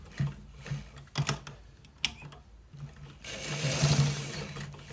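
A sewing machine stitches a designer collar shirt in several short bursts with small taps between them, ending in a longer, steadier run of stitching at close range.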